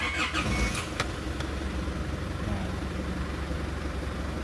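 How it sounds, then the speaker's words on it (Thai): A car engine fitted with an EVRV duty-cycle fuel control being started, a brief cranking burst followed by a steady low idle rumble. "เดี๋ยวเราจัดการติดเครื่องนะครับ"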